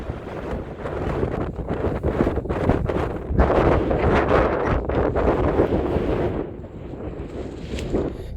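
Strong cold wind at a night camp in Talamali, Koraput, buffets the microphone in loud, rough gusts that rise and fall continuously, with no voices.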